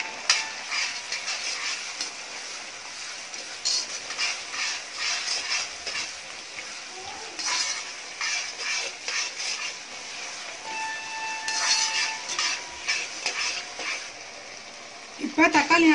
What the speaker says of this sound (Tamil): இப்போ தக்காளி நல்லா வதங்கிருச்சு